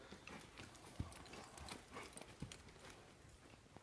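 A horse walks at a slow pace, its hooves giving faint, scattered clip-clops over a steady outdoor background.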